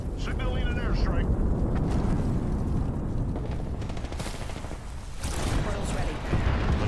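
Loud, dense game combat with bursts of explosion-like rumble and gunfire crackle running throughout, a heavy blast swelling near the end, as voices talk over it during an airstrike in an online shooter match.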